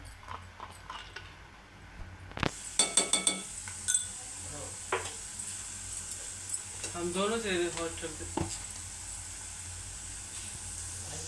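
Crushed dry red chillies and garlic drop into hot oil for an egg fry roast, setting off a steady sizzle with clinks of a spoon against the pan and scattered scraping as the mixture is stirred; a voice speaks briefly.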